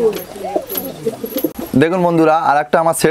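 Pigeons in a home loft coo in soft repeated rolling calls close by, with someone talking over them at first before the cooing stands alone.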